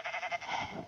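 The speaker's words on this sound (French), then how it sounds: "Les moutons que je vais faire spawn maintenant" Sheep in a video game, spawned in the game world, bleat in a quick wavering run of calls lasting under a second, faint and heard alone without speech.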